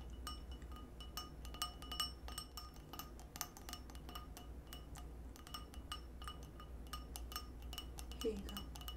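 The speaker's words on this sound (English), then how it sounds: "We have a glass here for you." Small glass clinks and light taps as a wine glass is handled aboard a first-class airline cabin, soft and close with repeated delicate chinks over a quiet background.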